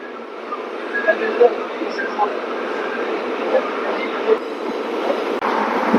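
An intercity express from Ambala Cantt to Sri Ganganagar runs at speed after leaving Nabha, heard from inside as a steady loud rail rumble with scattered clicks and faint voices in the carriage.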